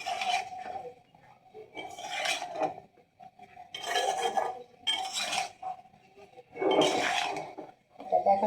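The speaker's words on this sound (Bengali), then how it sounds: "আমি এটাকে এখন নাড়াচাড়া দিচ্ছি, দিয়ে এটাকে ঢেকে দিব।" Potatoes and eggplant stirred in a cooking pot, with repeated bursts of metal scraping and clinking in uneven strokes, close and moderately loud, separated by brief quieter gaps.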